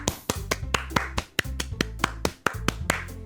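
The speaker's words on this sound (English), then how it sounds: "The four of us applaud" Characters in a video game applaud with sharp, crisp claps that come in an uneven rhythm of distinct strikes, with short pauses between groups, close and clear.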